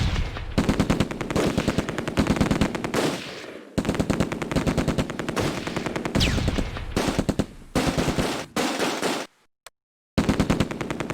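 Rapid machine-gun bursts crackle through the World War II strategy game Close Combat: A Bridge Too Far, loud sustained volleys broken by short gaps and one near-silent pause before the firing resumes.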